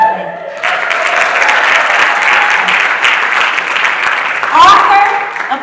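An audience at a Chicago poetry event breaks into loud, dense applause that swells and holds steady for several seconds, with a voice speaking at the start and again near the end.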